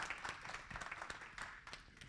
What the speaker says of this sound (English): So double round of applause.